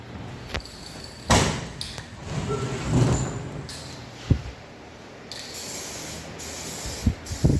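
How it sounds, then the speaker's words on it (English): Abrasive blasting of an extension housing from a Chrysler Valiant AP6 rebuild comes through as close hissing bursts of spray, starting and stopping irregularly, with a few knocks and thumps between them. "So this is the extension housing being blasted."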